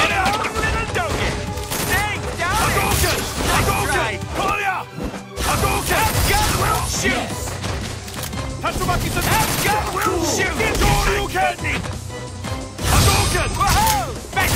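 Rapid gunfire and crashing hits in Marvel vs. Capcom 3 come in dense bursts with game music and effects, loud and busy throughout, with a player shouting over the action.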